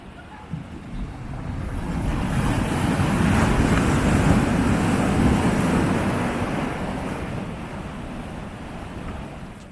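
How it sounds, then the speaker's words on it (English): Ocean waves surging against coastal rocks at Blowing Rocks Preserve in Jupiter, a steady broadband wash that builds to a loud peak mid-clip and eases off, with wind buffeting the microphone and no talking. "the rocks and the waves hitting the rocks and the spray coming off them is quite nice"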